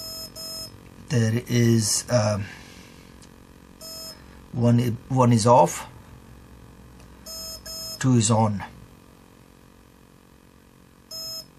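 A TowerPro MAG 8 18A ESC gives short electronic programming beeps in spaced groups of a few tones. Someone talks between them, and his voice is louder than the faint beeps.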